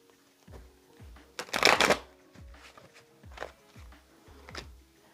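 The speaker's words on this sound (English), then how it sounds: "Let me go ahead and give it another little shuffle here." Playing cards are shuffled close up: a loud riffle burst, then several softer shuffling passes in a loose rhythm.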